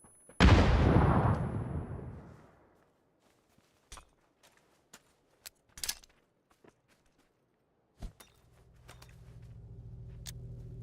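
A grenade explodes in the video game PUBG with one loud, close blast that rumbles and decays over about two seconds, then scattered faint footsteps and clicks follow before a low engine-like drone rises.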